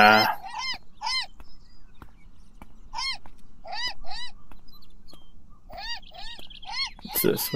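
Repeated squawking and honking calls from birds in an indie video game, several loud harsh bursts in quick succession, with a brief voice at the start and end.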